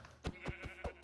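Minecraft sheep give a run of short, evenly spaced bleats that sound fairly near and moderately loud, with no voices.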